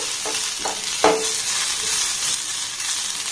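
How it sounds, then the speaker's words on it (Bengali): Grated raw potato stirred with coriander, cumin and turmeric powder in a frying pan, a steady hiss of frying with a few scraping spoon strokes and knocks against the pan early on, no talk. "এবার সমস্ত উপকরণ একটু নাড়াচাড়া করে নেব"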